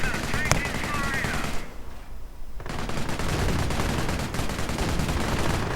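Machine-gun bursts and mortar fire in a World War II real-time strategy game, rapid crackling shots dense and continuous across the clip, with a brief lull partway through before the firing resumes.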